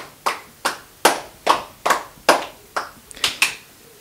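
Children clapping together in a church to acclaim Jesus, about ten sharp, evenly spaced claps in a steady beat, close and fairly loud, with no voices over them.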